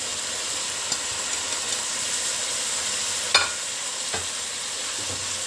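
Dry spices such as ginger, cinnamon, cumin and pepper stirred into meat frying for biryani, a steady dense sizzle with a few faint knocks of the spoon, no voices.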